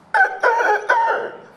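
A beatboxer's voice imitates a chicken, three short clucking, crowing bursts in a row, close and fairly loud, with no words spoken.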